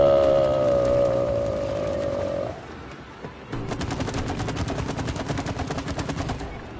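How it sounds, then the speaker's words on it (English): Rapid automatic gunfire in the video game It Takes Two, a fast even stream of shots in the second half following a droning whine. "try shooting them rocks"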